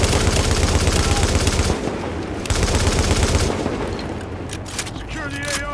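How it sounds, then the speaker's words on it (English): Rapid automatic gunfire bursts in Tom Clancy's The Division, loud and dense with heavy low thumps for the first few seconds, then thinning into scattered shots and distant battle noise with faint radio-like voices. "Fire on target."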